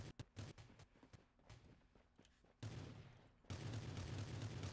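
Gunfire crackles in the battle royale game Rules of Survival, a quick series of sharp shots and distant pops that gives way to denser, sustained bursts, quiet in the mix.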